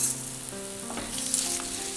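Banana pieces frying in ghee with added sugar, stirred in a pan: a close, continuous sizzle with soft stirring scrapes and a low hum underneath, no voices.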